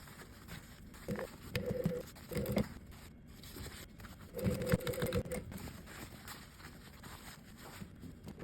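A sewing machine stitches a seam joining a three-dimensional cargo pocket to the outer fabric, running in two short bursts with pauses and handling noises between, close and moderately loud.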